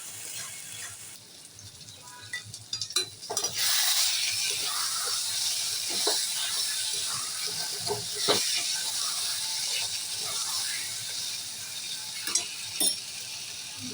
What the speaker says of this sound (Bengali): এটা ভালো করে একটু কষিয়ে নিতে হবে